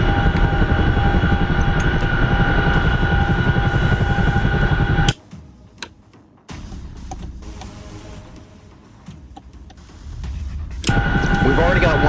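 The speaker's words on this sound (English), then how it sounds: "We've already got 1 Chinook on the way" Chinook helicopter in a war video game, a loud steady rotor and engine drone that drops away to near quiet for several seconds, then comes back.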